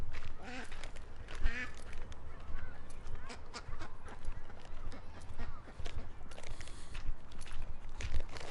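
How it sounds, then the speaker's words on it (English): A duck calling repeatedly outdoors, with short nasal quacks and honks scattered over steady background ambience, fairly close and clear, and a voice talking briefly. "Is that General Afro duck calling"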